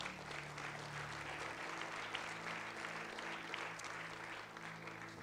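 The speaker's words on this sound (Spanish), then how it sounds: "Denle el aplauso fuerte al Señor." A Spanish-speaking church congregation claps for the Lord during a service, a continuous, fairly distant and muted patter of many hands under a low hum.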